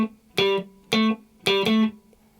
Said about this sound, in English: So the main melody sounds like this.